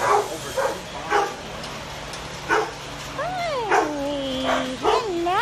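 Dogs bark in short, loud, repeated bursts at an animal shelter, mixed with rising yips and whimpering whines, close by, with people talking nearby.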